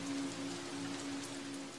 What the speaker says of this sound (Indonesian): Di luar masih hujan lebat.